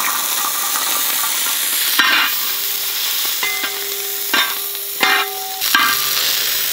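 Spices with coriander and chillies fry in village coconut oil in a heavy uruli for chicken curry, a close, steady sizzle with repeated stirring scrapes and a faint steady mechanical hum in the background.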